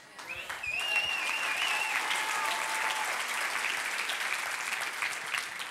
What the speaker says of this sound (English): Now stop clapping